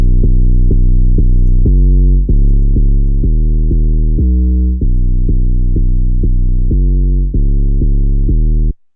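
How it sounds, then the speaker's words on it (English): Deep hyperpop 808 bass from an analog sine synth oscillator plays a loud, booming pattern of distorted sustained notes shifting pitch in a steady rhythm, alone with no voices. "the 808 by itself is going to sound like this"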